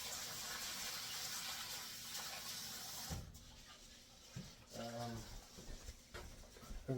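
Water gushes from a tap onto rice in a bowl for rinsing, a continuous running stream that cuts off midway, followed by swishing and splashing as the rice is stirred, with a voice briefly heard.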